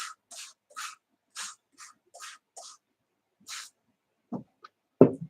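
Short hissing bursts of a hand spray bottle misting glue solution onto a desk backdrop, about ten separate puffs at an uneven pace, close and soft, with a couple of thuds at the end.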